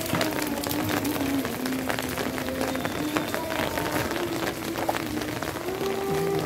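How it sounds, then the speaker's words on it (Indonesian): Rain that is easing off patters steadily on surfaces close by, a dense even hiss of drops with a faint tonal hum underneath. "Oke, hujannya udah mulai reda. Udah nggak deras lagi"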